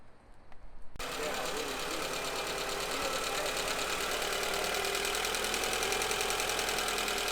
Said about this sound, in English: We're going to crank the car up and get to it.